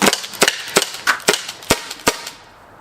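A Byrna SD launcher fitted with a 12-gram CO2 Boost adapter fires pepper balls outdoors at night. About eight sharp, close pops come in a quick, uneven string, each with a short snap, and nobody talks.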